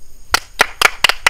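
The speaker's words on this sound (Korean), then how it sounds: "3번의 박수." Sharp, close hand claps snap out in an uneven rhythm, with one of the later claps doubled, each crisp and loud against near silence.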